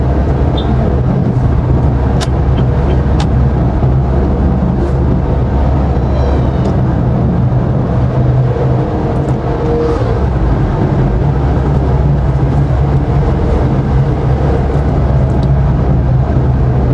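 Steady low road rumble and engine drone of a car being driven, heard from inside the cabin, continuous and fairly loud with a few faint clicks and no talking.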